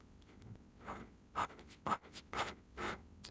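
Handwriting on paper or board while working a maths problem, a series of separate scratchy strokes in bursts, close and clear over a quiet background, with no voices.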